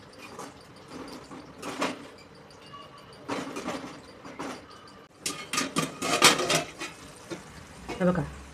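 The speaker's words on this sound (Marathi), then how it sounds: "आता आपण ह्याच्यामध्ये टोमॅटो शिजवून घेऊ" Tomatoes cook in a masala mixture with stretches of scraping and stirring against a pot, quiet at first, then louder, busier clatter of utensil strokes toward the end over a faint background sizzle.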